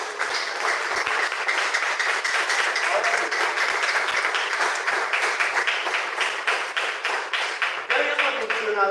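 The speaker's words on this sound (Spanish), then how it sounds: "Démosle un aplauso al Rey de la Gloria." Church congregation applauding, dense sustained clapping from many hands filling the room, fading toward the end as a voice comes in.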